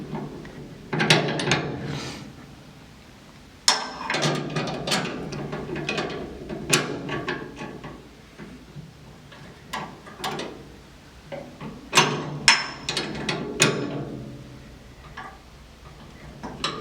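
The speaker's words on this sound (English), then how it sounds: "at this point I'm going to tighten it up on this end. Again, using flare wrenches." Close metallic clicks, taps and scrapes come from flare wrenches tightening brake line fittings at a master cylinder and T-fitting on a GT3 road race chassis, arriving in irregular bursts separated by brief quiet gaps.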